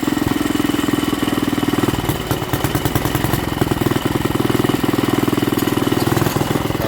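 A Barford Atom engine runs at a steady, loud, close idle with a throbbing mechanical rhythm and a faint belt-driven rattle, continuous throughout with no talk.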